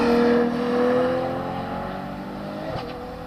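The 6.5-litre V12 of a Ferrari 12 Cilindri revs high with a smooth rising wail, loud and sustained, tapering slightly toward the end with no talk.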